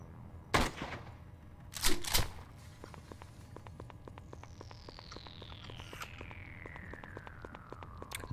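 Gunfire in the Shadowrun Chronicles: Boston Lockdown game, with a few sharp shots close together early on, then a rapid run of quieter clicking bursts under a descending whine.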